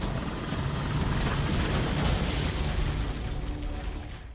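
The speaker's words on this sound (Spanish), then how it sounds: "El helicóptero se estrella con fuerza contra los árboles." A Blackhawk UH-60 helicopter crashes into pine trees at night, a loud dense roar of rotor noise and crashing impact that holds steady for several seconds and then fades slightly at the end.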